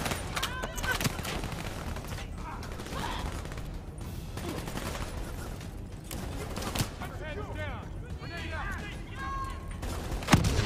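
Sustained gunfire crackles through a Call of Duty: Black Ops 3 battle as a machine gunner fires from above, with dense rapid bursts and scattered explosions throughout, while someone talks over the combat.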